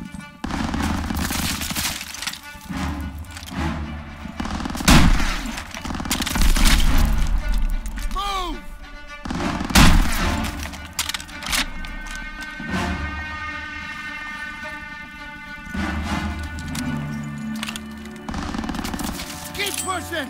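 Machine gun fire rattles in bursts during a World War II street battle in Call of Duty WWII, mixed with booming explosions and other battle noise, close and loud throughout.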